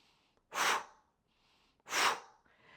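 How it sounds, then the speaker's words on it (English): Two sharp, forceful exhales through the nose and mouth during Pilates ball squeezes, close and loud, separated by a quiet pause with faint breathing. "Try and get some sharp exhales while we're doing that as well."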